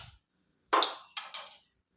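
Eggs are cracked with a few sharp, close taps in quick succession, a single hard crack followed by two lighter knocks, with quiet around them.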